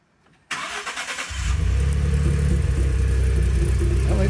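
A 2011 Ford F-150 with a suspected exhaust leak cranks and starts, then settles into a loud, rumbling idle with a deep low-end drone and slightly raspy exhaust tone, close by.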